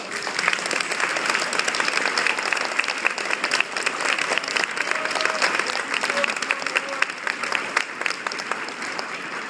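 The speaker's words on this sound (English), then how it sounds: "give a round of applause to our coaches" A crowd claps steadily and loudly throughout, a dense continuous applause with no break.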